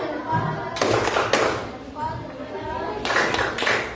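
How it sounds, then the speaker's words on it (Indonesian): A classroom of students performs a patterned clap routine in short bursts separated by pauses, sharp crisp claps close by, with a teacher's voice speaking between the bursts. "Tepuk salut"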